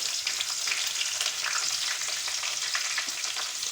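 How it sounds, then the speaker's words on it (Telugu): Loud, constant hissing sizzle of onions and green chillies frying in hot oil, steady and close, with no voices. "ఉల్లిపాయలు పచ్చిమిరకాయలు వేసి వేయిస్తున్నారు"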